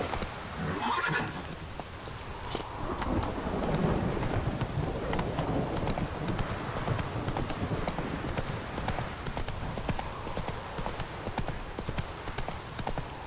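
A horse in The Witcher 3 gallops with rapid, continuous clip-clop hoofbeats and lets out a whinny near the start, all at a moderate, steady level with no talking.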